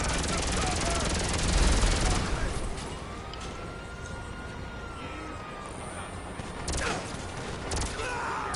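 Gunfire in the video game GTA 5 Online, a dense rapid burst of shots at the start followed by scattered cracks, with a siren-like wail and game noise underneath.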